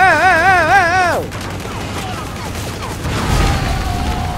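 Gunfire from the action game Stranglehold bursts out briefly and is followed by mechanical clatter and a low boom, heard after an electronic warbling tone, with no speech.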